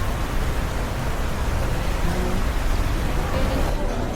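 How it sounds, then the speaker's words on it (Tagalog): Steady, dense broadband hiss of a downpour during a half marathon in Baguio City, loud and continuous throughout, like heavy rain pouring close by. "ang lakas ng ulan"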